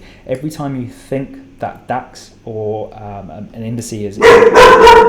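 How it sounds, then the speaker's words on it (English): A household dog barks in a short burst of loud, sharp yaps near the end, cutting in after someone talking close to the microphone. "apologies for the dog"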